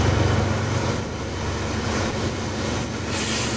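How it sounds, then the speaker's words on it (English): A train passes near a station beside a trolley trail, a loud, close rumble of rolling rail cars with rhythmic wheel clatter and a hint of metallic squeal, continuous throughout with no talking. "There's a train coming from the station."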